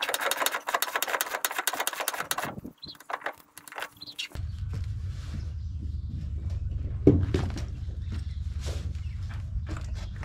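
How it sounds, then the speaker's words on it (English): A hand winch is cranked to raise a welded pivot frame on an amphibious ATV build, starting with a rapid run of ratcheting clicks, then a pause and a low, steady mechanical rumble. "So when I crank the winch, it raises up."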